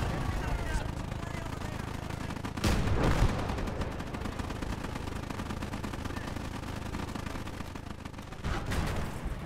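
A derp gun artillery piece firing in the game Call to Arms Ostfront, its heavy booms rising out of continuous battle gunfire, with one strong blast early and another near the end.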